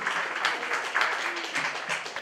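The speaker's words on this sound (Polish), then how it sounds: "Wielkie brawa dla wszystkich laureatów." Audience applause for the laureates of a sung-poetry contest at a cultural centre event, a dense, even patter of many hands heard at moderate distance, continuous for a couple of seconds without speech.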